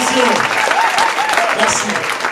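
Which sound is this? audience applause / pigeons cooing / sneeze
audience applause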